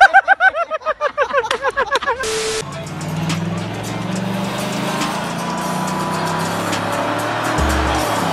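Cars on a highway with one vehicle trying to overtake others, a steady engine and road drone building up after a few seconds of sharp chirping tones, with a brief low thump near the end.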